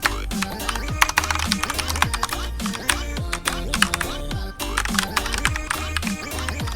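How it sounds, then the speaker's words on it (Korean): Fast, steady clicking of keys on a Xenics computer keyboard, close and crisp, with a rapid irregular rhythm that runs throughout alongside soft background game music. "키보드 제닉스 쓰고 있습니다"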